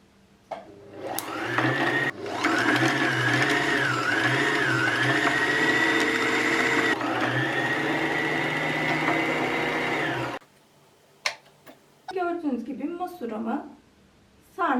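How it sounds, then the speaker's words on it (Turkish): A Singer sewing machine winds a bobbin with a loud steady motor whir that rises and dips in pitch, stops abruptly, then someone speaks briefly afterward. "dikiş ayağımıza basarak sarma işlemini yapıyoruz"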